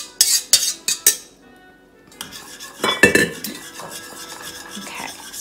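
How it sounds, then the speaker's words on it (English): A whisk clatters against a bowl while egg batter for zeppole di San Giuseppe is mixed, a few sharp metallic taps and then quieter, continuous scraping and stirring strokes, close and without talk. "Whisk the whole time"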